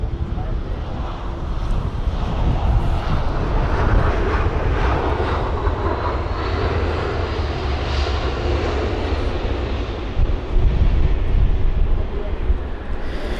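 A Croatia Airlines Airbus A319 landing at London Heathrow in strong wind, a loud continuous jet engine roar mixed with gusty wind buffeting on the microphone, sustained and near for the whole stretch.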